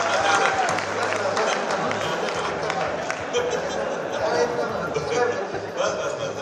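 An audience at a Hindi poetry recital claps in a continuous wash of applause. Crowd murmur and scattered voices are mixed in, and the sound stays fairly loud and steady throughout.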